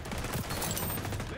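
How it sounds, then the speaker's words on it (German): Gunfire in the XDefiant video game, shots fired through a metal sheet, comes as a quick, dense burst of overlapping rapid reports, fairly faint and crackling throughout the short stretch. "ich habe gegen das Metallblech geschossen und die Schüsse sind durchgegangen"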